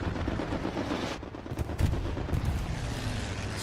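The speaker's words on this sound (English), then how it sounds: "Strafing run comes in." Gunfire from a strafing run in the Hell Let Loose video game, loud rapid bursts and rumbling impacts on a battlefield, with a brief lull before heavier fire resumes and no talking.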